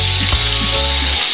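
Fish frying in a pan of hot oil, a loud, steady sizzle with a constant crackle up close, without any voices.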